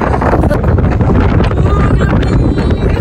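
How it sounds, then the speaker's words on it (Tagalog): Strong wind buffeting the microphone on a mountain at Banff near the gondola, a loud continuous low roar with gusting swells throughout, with no speech. "It's so windy."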